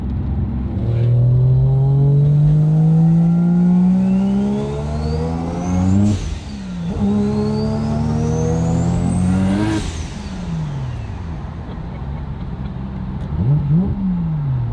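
A three-rotor Mazda RX-7 with a 75 mm turbo revs hard on the street, pitch climbing through gears with sharp shifts and turbo whistle, loud and close throughout.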